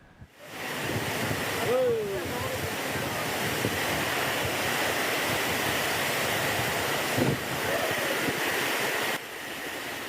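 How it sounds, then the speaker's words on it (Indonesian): A dense, roaring wash of heavy rain and gusting wind in Waru, Sidoarjo, East Java, fills the scene continuously, loud and close, with faint indistinct voices underneath. "Hujan deras disertai angin kencang menerjang kawasan Waru, Kabupaten Sidoarjo, Jawa Timur."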